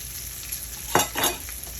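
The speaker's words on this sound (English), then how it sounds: "once the bacon's completely cooked" Bacon frying in a pan gives a quiet, steady sizzle, with a couple of brief louder crackling bursts partway through; no voices.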